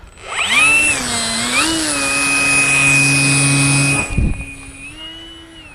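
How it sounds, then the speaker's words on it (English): An Easystreet model plane's electric ducted fan spools up into a loud, high whining roar with a wavering pitch and holds steady, then briefly cuts out with a thump and spins back up. "Or Easystreet with a ducted fan motor."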